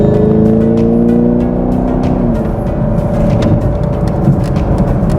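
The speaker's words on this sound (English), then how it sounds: "That LT1 motor, oh man, I mean, just torque everywhere." A 2020 Chevy Camaro with the LT1 V8 accelerating hard, heard from inside the car as a loud, sustained engine roar whose pitch climbs steadily, with no talking over it.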